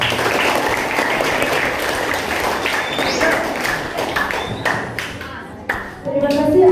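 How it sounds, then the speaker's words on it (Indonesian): Applause for a group at a junior high school event in Indonesia, a dense burst of clapping that gradually thins out into scattered claps and bumps, with voices briefly audible near the end. "langsung ke kelompok kita, tepuk tangan."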